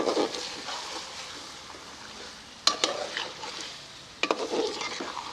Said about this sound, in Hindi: इन्हें 6-7 मिनट के लिए भून लेंगे इसी मसाले में।